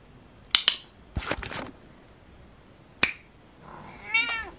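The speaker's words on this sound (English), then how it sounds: "And a cat." A cat meows alone at close range, one short call near the end after a few scattered clicks and taps.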